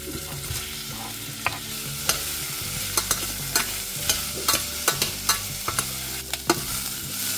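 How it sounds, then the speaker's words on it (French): Onions sizzle in hot olive oil in a pan, with a spoon scraping and stirring in repeated sharp knocks over the steady frying hiss. "je mets un petit peu d'huile d'olive. Et je fais revenir de l'oignon."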